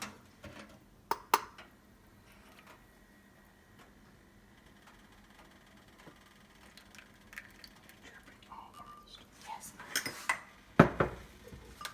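A batter is beaten in a bowl until frothy and aerated, with sporadic clinks and knocks of a utensil against the dish, faint at first and turning louder and busier toward the end.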